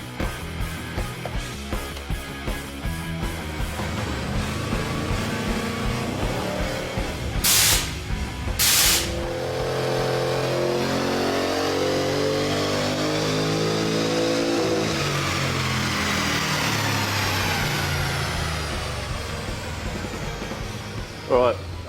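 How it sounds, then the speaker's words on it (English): A car engine runs up on a dyno with a 75 horsepower nitrous oxide shot, revving loudly through rising gears with two sharp hissing sprays, then a long climbing roar before cutting off. "we've just done the first run with the Nitrous turned on"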